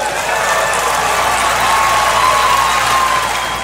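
Sustained applause fills a legislative assembly chamber, many hands clapping steadily and evenly for several seconds with a faint crowd murmur beneath.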